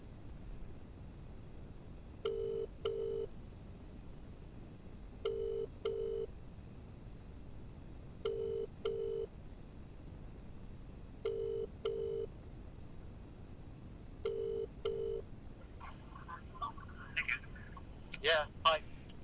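Outgoing phone call ringback: five evenly spaced double-pulse rings heard close and clear over a faint hiss, followed by a brief clatter and a voice at the end.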